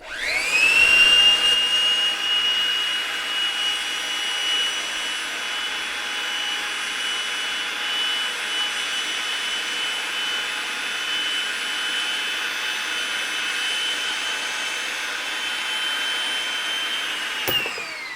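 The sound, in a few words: powered pipe cutting machine cutting gas line pipe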